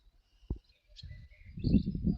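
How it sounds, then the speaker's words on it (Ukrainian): Birds chirp and twitter faintly high above, with a sharp knock early on and a low rustling rumble building underneath. "Поки дощику немає, розпівалися птахи."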